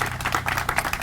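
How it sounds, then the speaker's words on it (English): A short burst of applause, many hands clapping briskly at once, at an outdoor playground unveiling ceremony in a park. "Let's give Chris a round of applause."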